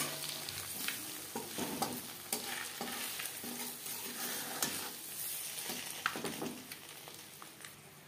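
Eggs frying in a pan of oil for an egg curry, a steady close sizzle broken by scrapes and clinks of a spatula stirring and turning them, with no talking.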